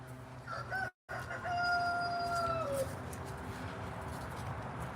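A rooster crows once, a drawn-out call over a steady outdoor backdrop in a backyard chicken coop, with the flock murmuring faintly around it and no talking.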